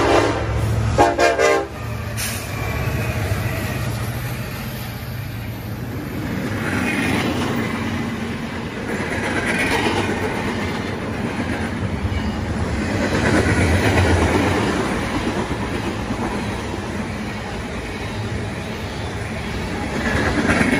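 A southbound CN freight train rolls past, a steady loud rumble and clatter of rail cars with a horn sounding near the start, continuing without talk throughout.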